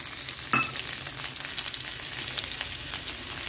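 Onion, ginger paste, chopped tomato, chilli, turmeric, cumin and salt sizzle and fry in a pan for a tuna fish curry, a steady close crackle with occasional stirring scrapes and no talk.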